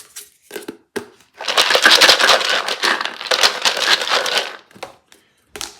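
Cardboard game chits for an Ardennes wargame are shuffled in a container, a loud dense rattling and clattering burst in the middle, framed by a few short separate clicks before and after.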